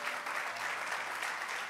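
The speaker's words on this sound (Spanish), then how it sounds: "empecemos dándole un aplauso fuerte a nuestro Dios" Church congregation in New York applauding in a dense, even roar of clapping that holds steady at moderate volume, with no voices standing out.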